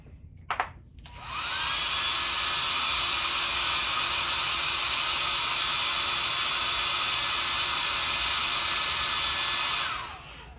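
A heat gun blows steadily on a freshly painted fire tiger crankbait to heat-set the paint, a loud continuous whooshing hiss with a faint whine that starts abruptly after a couple of clicks, holds for about eight seconds, then winds down.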